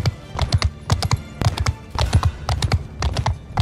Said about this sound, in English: Holy cow, that's a lot of cavalry.